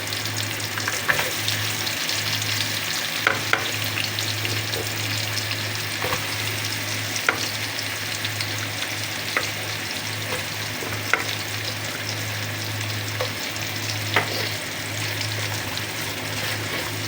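Onions sautéing in a pan as the base for chicken sinigang soured with lemon, a steady close sizzle with occasional stirring clicks and scrapes, no talking.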